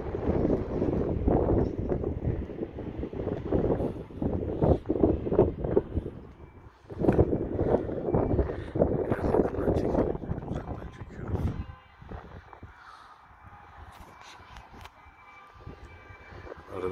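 Strong wind buffets the microphone outdoors at a pigeon-flying spot, making loud, uneven rumbling gusts that ease off toward the end.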